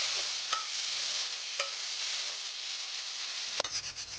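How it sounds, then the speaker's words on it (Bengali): Potatoes fry in oil with salt and turmeric in a wok. A steady, even sizzle runs throughout, with a few sharp clicks of stirring scattered through it. "কড়ার মধ্যে লবণ, হলুদ, তেল দিয়ে ভালো করে আলুগুলো ভেজে নেব"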